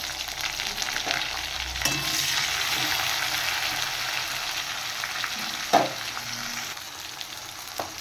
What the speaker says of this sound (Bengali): এবার আমি দিয়ে দিচ্ছি কেটে রাখা টমেটো